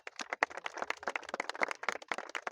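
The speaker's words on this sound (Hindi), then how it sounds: "ताली बजाना बच्चे," Children clap at a merit-list ceremony in quick, uneven bursts of close, sharp hand claps for about two and a half seconds, with no talking.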